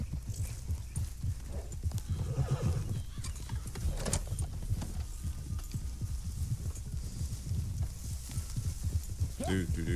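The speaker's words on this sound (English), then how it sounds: "Get on the horse." A horse gallops in Red Dead Redemption 2, rapid rhythmic hoofbeats thudding close and steady throughout, with a short whinny or voice toward the end.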